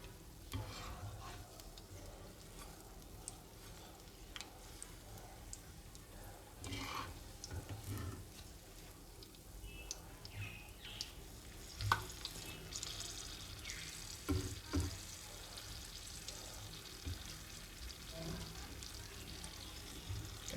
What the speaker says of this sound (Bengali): এবার আমি গ্যাসটা একটু সামান্য একটু বাড়িয়ে নেব, বাড়িয়ে নিয়ে ভাজবো।